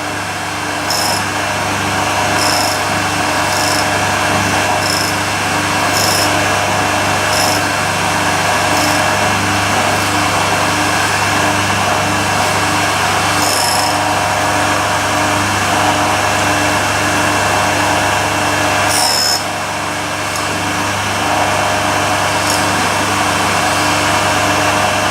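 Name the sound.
grinding with a power tool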